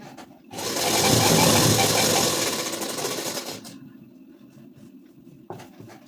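A sewing machine runs in one steady burst of about three seconds, stitching the seam of a ladies' suit along a chalk line, then stops, leaving a quiet room with a faint knock near the end.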